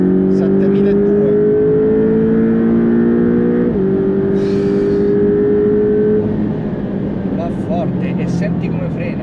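A Porsche Boxster 718 engine revs loudly and steadily up toward 7200 rpm, its rising tone sustained close by for several seconds before the revs ease off, with a brief speech-like burst partway through.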